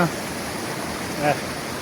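Water flows steadily at a village spring in Azad Kashmir, a continuous rushing wash close by, with a faint voice rising briefly over it.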